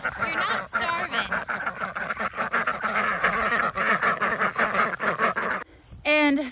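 A flock of ducks quacks and honks close by, a busy overlapping chorus of harsh calls that runs almost without pause, with one loud separate quack near the end.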